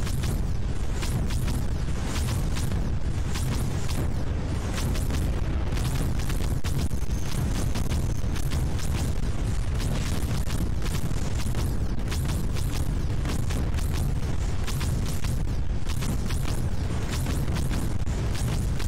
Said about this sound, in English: There's absolutely no reason for them to have that much of a creeper explosion.